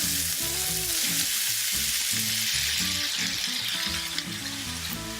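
Peppers and onions fry in hot grease in a pan, a loud, steady, close sizzle and crackle that carries on without a break, with no voices over it.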